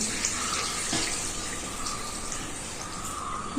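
Water streams steadily into a pressure cooker for boiling, a continuous close splashing pour with no voices.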